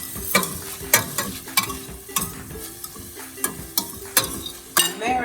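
Onions sautéing in a pan for a meat sauce, a steady sizzle broken by repeated scraping stirs roughly every second, close and alone with no talk.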